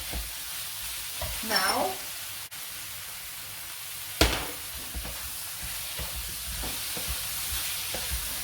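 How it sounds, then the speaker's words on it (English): Food sizzles steadily in a frying pan as it is stirred, with a soft constant hiss, a few scraping clicks and a brief sharp knock; a voice speaks briefly. "Give it a good stir and put the salt in."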